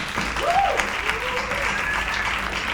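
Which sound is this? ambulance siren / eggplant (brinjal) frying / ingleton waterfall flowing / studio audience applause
studio audience applause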